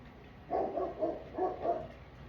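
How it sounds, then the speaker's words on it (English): A dog barks four times in quick succession, fairly loud and close, with no other voices. "Big dog, big dog. We all hear your bark."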